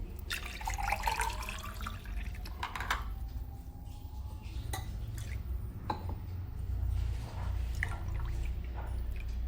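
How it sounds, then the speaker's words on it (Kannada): Thin buttermilk is poured into a glass in a home kitchen, faint trickling and dripping liquid sounds with occasional small clinks over a steady low background hum. "ನೀರು ಮಜ್ಜಿಗೆ ಹಾಕ್ಕೊಳ್ತಾ ಇದ್ದೀನಿ, 1 ಗ್ಲಾಸು."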